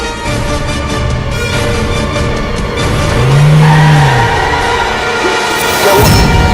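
A car driven and brought to a stop, its engine droning steadily and swelling briefly mid-clip with a tyre-like whine before a rough rise at the end, with no talk.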